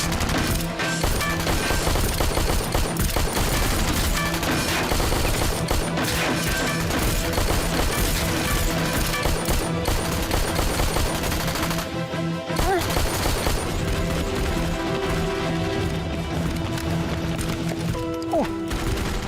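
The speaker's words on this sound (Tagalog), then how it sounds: "Tapos bigla kami nakarinig ng putok." Gunfire erupting amid a dense, loud action-drama soundscape, with sharp crashing bursts and clattering volleys running continuously, briefly dropping out before resuming.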